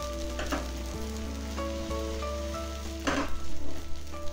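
Neer dosa batter on a hot pan, a soft steady sizzle over a low hum, with a louder burst of spattering toward the end, close by and without speech.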